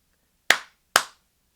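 Two sharp hand claps about half a second apart, close and crisp with short decays, alone against silence during a live stream.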